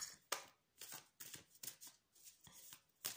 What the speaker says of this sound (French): Je vais laisser sauter les cartes